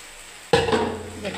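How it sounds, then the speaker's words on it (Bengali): Water is poured into a hot pan of okra cooking in a mustard-poppy seed paste with chillies, a sudden loud splash and sizzle that settles into a steady bubbling hiss. "এবারে যে একটু জল দিয়ে আমি"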